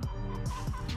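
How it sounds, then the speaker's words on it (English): Chickens in a coop cluck and squawk in a dense, overlapping flock chorus, close and fairly loud throughout with no talking. "Hello, chicken."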